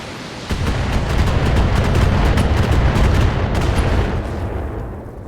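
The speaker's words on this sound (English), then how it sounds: "So many missiles." Rapid barrage of missile fire in the mech combat video game BattleTech, a dense roaring wall of overlapping blasts and whooshes that swells, holds loud for several seconds, then thins out toward the end.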